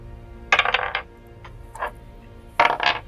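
Dice rolled during a tabletop roleplaying game session, two separate clattering bursts of tumbling dice with a faint click between them, close and fairly loud against a quiet room.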